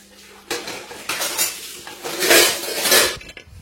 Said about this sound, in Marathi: म्हणजे आपण संध्याकाळी भांडे घासलेले राहते का ते आपल्याला सकाळी लावून घ्यावं लागते